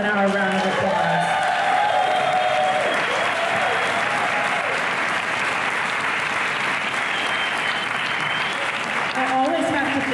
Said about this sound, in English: Everybody give Congressman Blumenaur a round of applause.